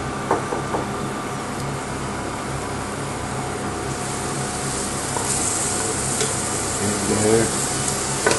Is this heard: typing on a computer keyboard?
no